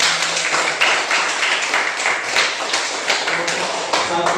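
A group of students clapping hands together in a classroom, a dense, steady patter of many hands filling the room at close range with no pauses.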